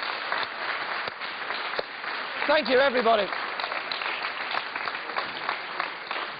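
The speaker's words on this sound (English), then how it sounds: "A round of applause for Katie" Sustained applause from a studio audience at a live televised psychic mentalism show, steady broadband clapping throughout with a voice briefly speaking over it midway.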